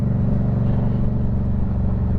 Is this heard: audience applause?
no